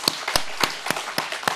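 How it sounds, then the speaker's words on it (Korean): Scattered handclaps from a church gathering, about six sharp separate claps spread over under two seconds, fairly close and loud with no voices over them. "다시 한번 박수를 한번 치겠습니다"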